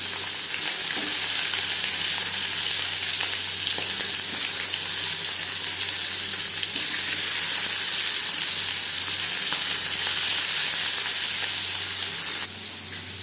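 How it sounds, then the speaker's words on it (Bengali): Fish marinated in salt and turmeric frying in hot refined oil for a Bata fish curry, giving a steady, loud broadband sizzle throughout with no talk. "পরিমাণ মতো রিফাইন্ড অয়েল গরম করে নিয়েছি এবার দিয়ে দেবো লবণ হলুদ মেখে রাখা মাছ"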